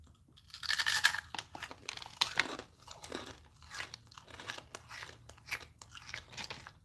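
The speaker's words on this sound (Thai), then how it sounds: "ทานนางเล็ดไปเรื่อยแล้วก็อันนี้ไปด้วย" Crispy Thai nang let rice crackers being eaten up close, with repeated sharp crunches and chewing bursts in an irregular rhythm, fairly quiet and without talk.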